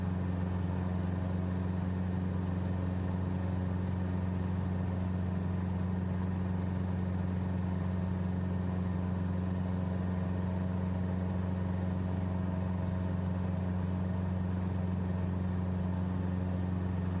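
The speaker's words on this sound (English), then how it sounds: "The engine sounds are kind of cool. You can hear it," A propeller aircraft engine in Microsoft Flight Simulator 2024 drones steadily during a descent, a constant low humming tone with strong harmonics, even and uninterrupted, no voices.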